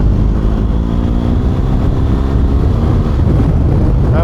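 Motorcycle rear wheel spinning and slipping on dusty white ground in the Bardenas desert, a loud continuous engine roar with rough wind buffeting, close and unbroken.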